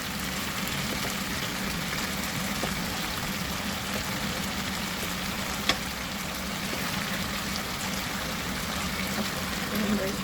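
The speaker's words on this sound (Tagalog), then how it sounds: "Lagyan na natin ng water." Water pours into a pan of pork adobo, a steady hiss and trickle that mixes with the sizzle of hot oil in a home kitchen, holding an even, constant level throughout.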